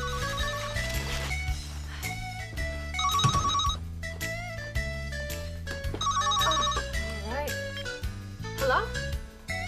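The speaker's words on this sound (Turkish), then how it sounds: "Meri Hanım telefon" An office telephone ringing in repeated electronic bursts through a busy scene, with music and people talking over it.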